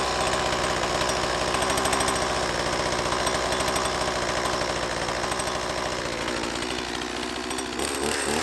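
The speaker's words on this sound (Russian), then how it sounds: "Даем пиле прогреться чуть-чуть." A Stihl MS 180 chainsaw engine idles steadily while warming up, a loud, continuous buzzing drone with a fast even rhythm that holds for several seconds before shifting slightly near the end.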